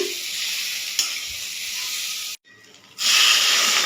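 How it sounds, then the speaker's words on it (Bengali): Close, steady frying hiss in a pan after salt and turmeric go in, with a brief stir knock; the sizzle drops out for a moment and then returns louder. "নুন হলুদ দিয়ে ভালো করে এটা কষিয়ে নিচ্ছি"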